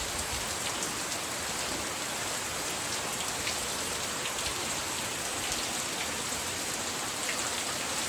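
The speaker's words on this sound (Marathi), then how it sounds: "पाऊस करतोय बॅटिंग" A hard morning downpour drums on surfaces at a farm, loud and continuous, with individual drop taps sprinkled through the steady wash and no talking.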